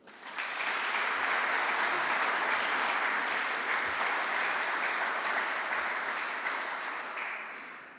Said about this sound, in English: could I have a round of applause for the University and the Vice-Chancellor?